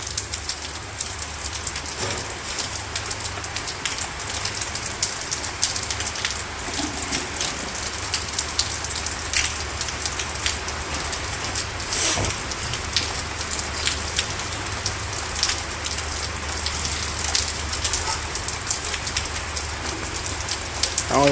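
Steady morning rain falls in a village, a dense, even patter on surfaces that continues unbroken and fairly close for the whole stretch.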